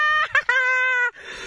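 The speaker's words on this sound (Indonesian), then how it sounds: "Wow, kita dapat ayam merah" A single loud chicken call: a couple of short clucks leading into one drawn-out squawk, close and clear, followed by a soft hiss.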